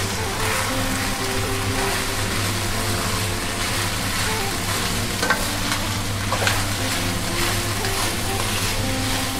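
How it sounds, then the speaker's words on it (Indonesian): Chinese-style fried rice (nasi goreng) being stirred in a hot pan, with steady loud sizzling and frying throughout and a few louder scrapes of the utensil against the pan. "Kita kacau lagi guys."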